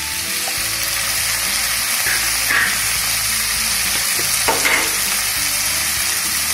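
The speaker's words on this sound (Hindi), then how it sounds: "अब इसमें आलू और परवल डाल देंगे।" Potatoes and pointed gourd (parwal) frying in a pan with lightly browned onion and garlic for a dry Indian sabzi: a loud continuous sizzle with occasional stirring scrapes and crackles.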